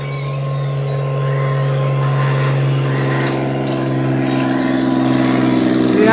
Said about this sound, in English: You can still hear the planes go by because we're right near the airport.